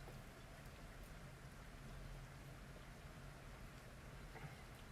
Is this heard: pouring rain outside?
yes